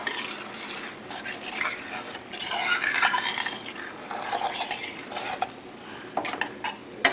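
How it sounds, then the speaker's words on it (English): Heavy cream poured into a pan of pork and apples, then stirred, heard as close scraping and stirring with a soft sizzle underneath and a few light utensil clinks against the pan. "Now we'll add the heavy cream"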